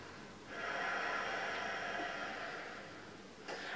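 A single long, audible breath drawn in through the nose during yoga asana practice, close and soft, rising then fading over a few seconds.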